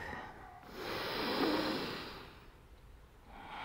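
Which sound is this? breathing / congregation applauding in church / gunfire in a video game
breathing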